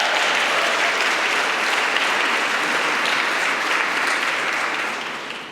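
A large audience gives a dense, sustained round of applause at the European Charlemagne Youth Prize ceremony in Aachen, steady and full before tapering off at the end.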